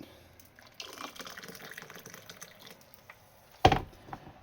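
Water poured into strong AeroPress coffee to dilute it, a quiet, steady trickling pour lasting a couple of seconds, followed by a single sharp clunk near the end.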